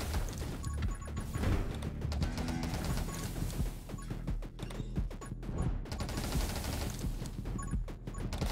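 Rapid, sustained gunfire from the roguelike shooter game 20 Minutes Till Dawn, a dense stream of repeated shots over a busy game soundtrack, loud and continuous throughout.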